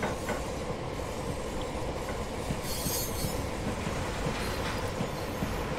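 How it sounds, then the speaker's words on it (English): A long freight train rolls past in the Train Simulator 2017 video game on a South Wales coastal route, a continuous rumble with rhythmic clickety-clack of wheels and brief high wheel squeals, steady and close throughout. "that is a long train."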